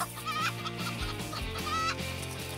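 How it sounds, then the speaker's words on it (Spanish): A hen clucks repeatedly in short bursts over steady background music, with no voices. "¡Oh, nuestra gallina!"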